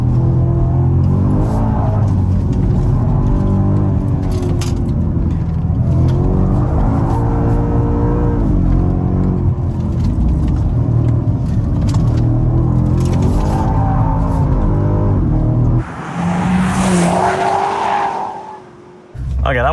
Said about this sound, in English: I was fourth gear, like 140 kilometers per hour, and just tipping it really quickly and the car went sideways instantly